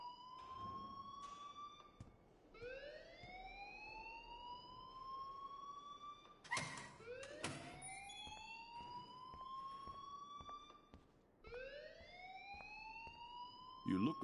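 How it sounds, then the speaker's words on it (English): Rising and falling alarm siren from the Life is Strange video game, sweeping upward in repeated wails, with a few sharp knocks between cycles. "please turn off that alarm since that's your job"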